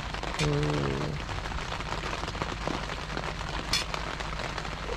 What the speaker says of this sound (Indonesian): Hujan sih, bukan gerimis nih. Tuh, dengar kan suaranya?